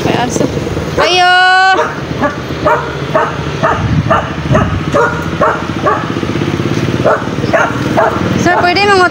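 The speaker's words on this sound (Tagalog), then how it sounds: "May aso." A dog barks and yips in short bursts near a hospital gate at early morning, mixed with people talking and a passing motorcycle, with a harmonic whine rising at the start and end.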